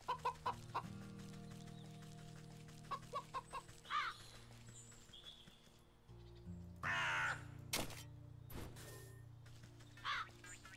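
Pheasant calls in the video game WytchWood come as short harsh squawks and clucking bursts, fairly faint, layered over a steady game music drone with other bird sounds scattered through.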